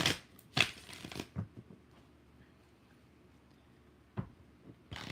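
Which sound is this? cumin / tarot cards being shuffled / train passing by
tarot cards being shuffled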